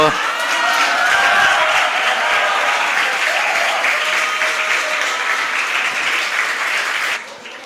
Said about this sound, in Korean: 자, 뜨거운 박수로.